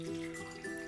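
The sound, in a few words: filtered water poured into bowl of pitted dates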